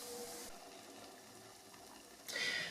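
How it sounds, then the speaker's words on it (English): Faint, steady sizzling of doughnuts frying in hot oil, with a brief brighter hiss near the end. "when they're ready, they will stop sizzling"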